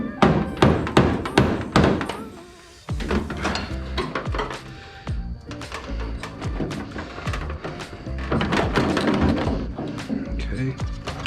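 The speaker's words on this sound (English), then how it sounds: "I can tap that bolt out of there." A bolt is tapped out of a crashed Zenith 601XL light aircraft during teardown, with a quick run of sharp metallic knocks up close followed by scattered clanks and thuds of tools and parts.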